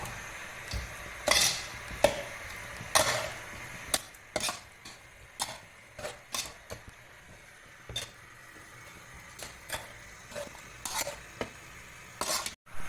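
Food being stirred in a cooking pan over raised heat, with repeated metal utensil scrapes and clinks against the pan, irregular and close, over a faint sizzle with no talking.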